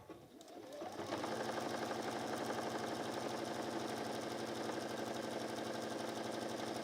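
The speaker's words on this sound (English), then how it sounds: "I top stitch down the double folded edge." A sewing machine starts up and runs steadily for several seconds, top stitching down the double folded edge of a picnic blanket with a fast, even mechanical whirr at close range.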